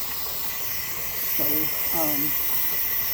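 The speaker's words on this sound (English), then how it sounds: "to be assured that all the steam is out before doing anything else" A steady, loud hiss of steam venting from a T-Fal 22-quart pressure canner runs throughout, with a couple of brief voice-like tones rising faintly beneath it.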